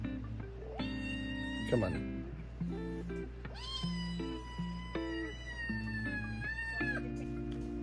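A kitten meowing over and over, close and loud, with drawn-out rising and wavering cries separated by short pauses and one harsher yowl. A person speaks briefly nearby.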